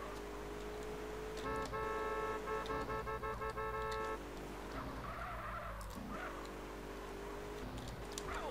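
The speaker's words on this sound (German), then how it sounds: "Ich könnte doch mal ein bisschen hupen." A car horn in GTA San Andreas Multiplayer honks in a run of short repeated toots that merge into a longer held blast, then sounds again faintly later over game engine and tyre noise.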